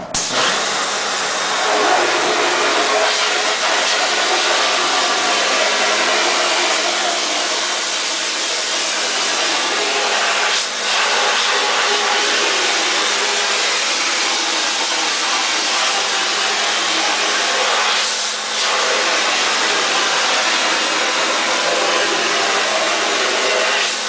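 Water spray washes emulsion out of a screen printing screen at a medium setting, a loud, steady broadband hiss that runs close and continuous, dipping briefly a couple of times.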